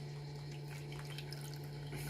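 Water running through a heating system during a cold flush, with a new Baxi 800 combi boiler and a Magnaclense filter: a faint, steady trickle over a constant low hum.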